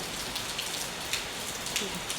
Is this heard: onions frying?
no